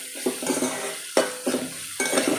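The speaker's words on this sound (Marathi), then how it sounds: "कांदा छान परतून घ्यायचा आहे." Onion sautéing in a pan for a Maharashtrian vegetable dish with asafoetida and salt: a steady sizzle broken by three scraping stirs of a spoon against the pan, close and fairly loud with no talking.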